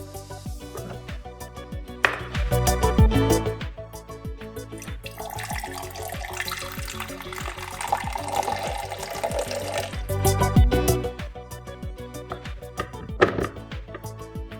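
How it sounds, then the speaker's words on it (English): Water pours into the water tank of a Preethi Cafe Zest CM210 drip coffee maker, a continuous splashing fill about 125 ml in volume that runs for the whole stretch, with clinks and knocks alongside. "I will be pouring 125 ml of water, which should be good for 2 small cups of coffee."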